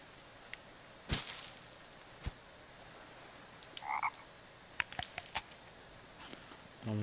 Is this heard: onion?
no